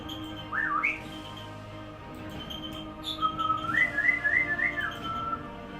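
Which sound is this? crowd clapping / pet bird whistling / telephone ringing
pet bird whistling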